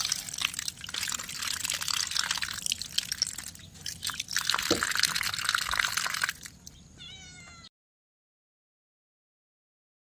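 Cleaned kalete fish being washed on a plate, with steady running, splashing water for about seven seconds that stops abruptly, then silence.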